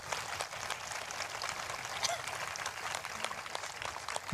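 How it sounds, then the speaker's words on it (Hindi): A church congregation at a prayer and prophecy meeting applauds loudly, with dense, sustained clapping that holds steady from start to finish. "तो आइए उस उद्धारकर्ता के लिए जोरदार ताली बजाकर धन्यवाद दें"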